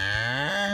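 A cow lets out a single drawn-out moo, close and clear, about a second long with a slight downward pitch bend partway through and no other sounds.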